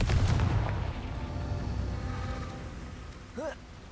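In the video game Hogwarts Legacy, the Confringo blasting spell fires off as a sharp, close burst followed by a rumbling decay, with a short whooshing tail near the end.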